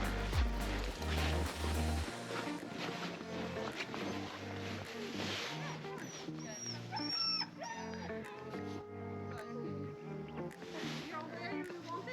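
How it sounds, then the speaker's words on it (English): Sled dogs in Finnish Lapland whimper, yip and bark in a restless chorus near and far, with people talking over them. "These were our doggies."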